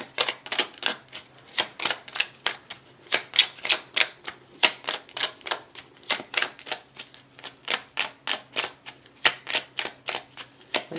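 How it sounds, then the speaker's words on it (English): Oracle cards being shuffled by hand in a steady run of crisp riffling bursts, each a short papery flutter, repeating rhythmically and close to the microphone with no talking. "I'm just going to shuffle them for a bit until I feel like they're ready."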